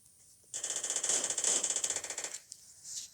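Rapid automatic gunfire from the video game PUBG, one sustained burst of evenly spaced shots lasting nearly two seconds, loud and close, followed by a brief softer burst.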